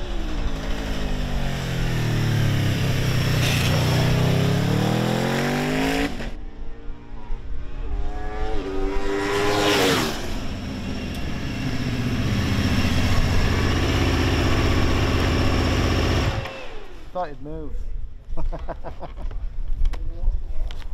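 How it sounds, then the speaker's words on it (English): A 2022 Norton V4SV superbike, a V4 road bike, laps a race track, its engine revving hard, then dropping into smooth engine braking into corners and climbing again, loud and continuous, with a brief lull before the next pull. "The engine braking into corners is nice and smooth."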